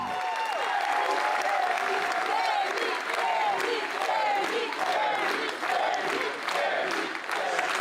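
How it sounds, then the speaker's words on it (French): A large crowd claps and cheers steadily, with rhythmic chanting voices rising and falling over the sustained applause. "Une foule enthousiaste applaudit"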